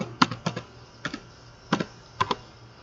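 Fingers tap out registration details on a computer keyboard, producing short bursts of crisp clicks in uneven groups, close and fairly quiet, with no talking.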